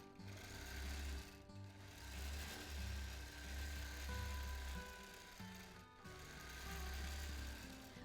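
A sewing machine stitches freehand quilting with its stitch regulator on, a quiet, steady mechanical whirring hum that pulses in bursts as the quilter moves the fabric, with brief pauses and no talk.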